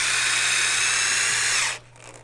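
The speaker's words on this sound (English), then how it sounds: "so I'm putting 2 screws in each." A power drill drives a screw into wood while building a double aquarium stand, one loud, close, high-pitched whine lasting under two seconds before cutting off abruptly.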